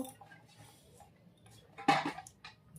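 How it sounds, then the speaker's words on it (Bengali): A bowl gives one short, sharp clatter midway through an otherwise quiet, faint background. "বাটিটায় খুব আওয়াজ হচ্ছে"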